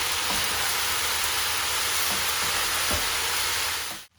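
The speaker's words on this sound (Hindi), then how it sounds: "अब इन सारी चीज़ों को अच्छी तरीके से आपस में मिक्स कर लेते हैं।" Spaghetti and vegetables stir-fried over a high flame for Singaporean rice, a loud steady sizzle with a few scraping stir strokes, running unbroken until it cuts off abruptly near the end.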